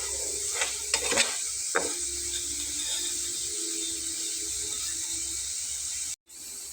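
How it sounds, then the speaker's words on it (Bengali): Potato snack frying in oil, a soft steady sizzle with a few sharp crackles and utensil scrapes early on, continuing quietly until a brief cutout near the end. "তো এভাবে আমি এটাকে একটু ভেজে নেব।"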